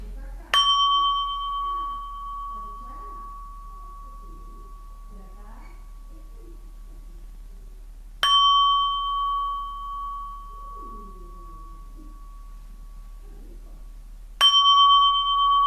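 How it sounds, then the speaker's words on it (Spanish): A gong is struck three times at widely spaced intervals during a meditation session, each strike ringing out loud and clear with a long sustained hum that fades slowly under quiet, soft-spoken talk. "Voy a tocar el gong."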